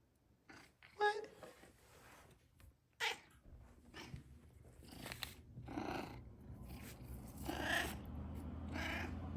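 A cat purrs close by with a soft, continuous low rumble, interrupted by a few brief sharp knocks and handling noises, while someone speaks quietly now and then.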